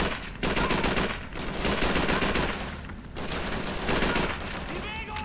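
Sustained Call of Duty 3 gunfire in a fuel plant battle, dense rifle and machine-gun bursts rattling almost continuously with brief lulls, loud and close, with a voice shouting over the shooting.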